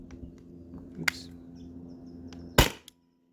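A paintball marker running on a 20 oz CO2 tank fires two sharp, loud pops about a second and a half apart, close up, against a quiet low hum.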